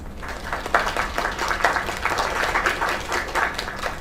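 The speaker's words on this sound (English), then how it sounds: "Another round of applause." Applause from a crowd in the video game Lake, a continuous dense round of clapping at steady moderate loudness with slight swells, heard on its own.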